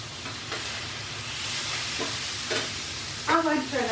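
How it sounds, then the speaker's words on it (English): Seasoned chicken tenders sizzle and hiss steadily in a frying pan in a home kitchen, a continuous crackle at moderate level with occasional louder spits. A voice briefly speaks over the cooking near the end. "I hope you can hear me over the sizzling chicken."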